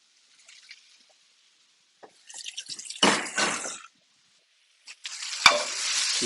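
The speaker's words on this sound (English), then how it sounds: "Keep sauteing a lovely veg" Vegetables sautéing in a pan, with bursts of sizzling and stirring scrapes separated by quiet gaps, loud and close, with no talking.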